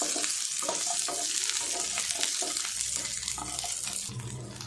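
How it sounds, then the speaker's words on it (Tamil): Garlic and onion sauté in a pan for tomato chutney, a close, steady sizzle broken by repeated stirring scrapes, fading a little at the end with a low clatter and no talking. "பூண்டையும் லைட்டாக வதக்கிக்குவோம்."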